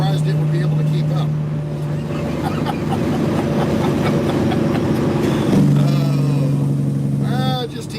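A big Peterbilt semi truck drones steadily at highway speed, its engine hum loud and continuous with a shift in pitch partway through, while people talk over it.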